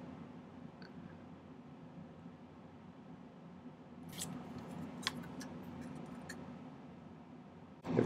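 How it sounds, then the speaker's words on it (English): Fiskars craft shears snipping silver sheet in a jewelry workbench setting, heard as a few faint, crisp clicks and snips over a quiet background, ending in one louder close cut. "Everybody asks me about these cutters. They're just Fiskars craft shears."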